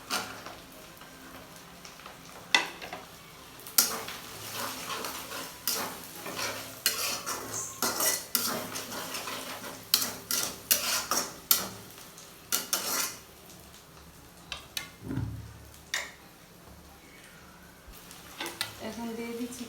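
Carrots for chilli chicken are stirred in a pan, a spoon scraping and clinking against the metal in irregular taps over a faint background sizzle, fairly quiet and close, with no talking.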